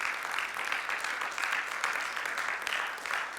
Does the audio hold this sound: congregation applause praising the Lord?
yes